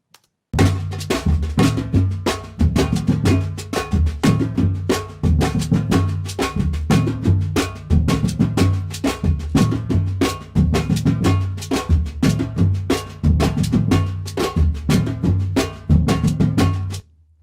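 A Brazilian groove played on a drum kit with cowbell: loud, driving, tightly repeating hits and bright metallic cowbell strokes in a steady syncopated pattern, with no voices.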